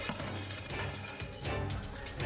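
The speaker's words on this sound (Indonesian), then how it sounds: "Pembongkaran lubang septic tank pun dilakukan menggunakan alat berat jenis bor listrik." A heavy electric drill breaks open a septic tank pit, giving a rough, continuous hammering rattle with brief dips, heard at moderate distance with no talk.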